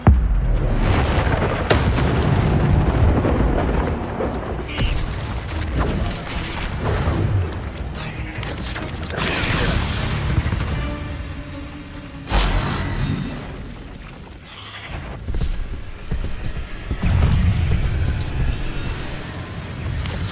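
Incendio fire spells cast repeatedly in the Hogwarts Legacy video game, loud bursting whooshes and booming impacts in irregular bursts amid dense combat noise, with shouted spell names over the action.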